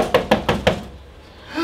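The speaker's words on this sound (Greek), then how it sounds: "εκείνη τη στιγμή ακούστηκε ένας χτύπος στην πόρτα" Four firm knocks on a door come in a quick, even rhythm, close and loud, followed by quiet, with no talking.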